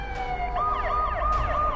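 An ambulance siren wails in a video game, with rapid rising and falling electronic tones sweeping over a low engine rumble, loud and close with no talking.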